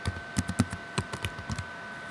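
Fingers tapping on a computer keyboard, a short close burst of about a dozen uneven clicking keystrokes with a faint steady hum behind.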